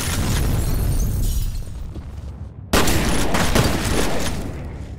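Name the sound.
shotgun firing in the video game F.E.A.R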